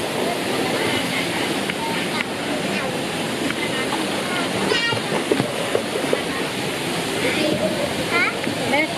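Artificial sea waves roll through a Hawaiian-style water park wave pool at Centre Point Prime Pattaya, a continuous rushing wash with scattered voices of swimmers in the background.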